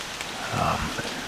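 Steady rain falling at dusk outdoors, a soft even hiss of drops on surfaces close by, with faint low sounds mixed in.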